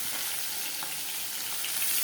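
Fish frying in a pan in a home kitchen, a steady, close, loud sizzling hiss with no other sounds.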